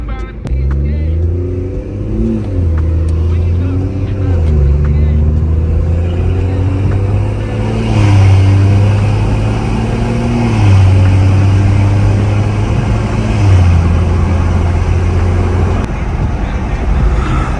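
From inside a BMW M240i with a catless downpipe, the engine drones loudly as it climbs and drops through several gear changes, set against road noise, with a voice faintly present.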